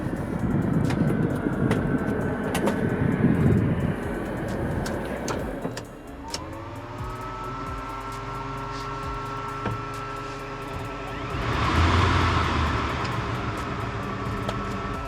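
A 2018 Cirrus SF50 Elite Vision Jet's turbine engine spooling up at startup, a steady rising whine over a low rumble that swells louder near the end, heard up close with no talking.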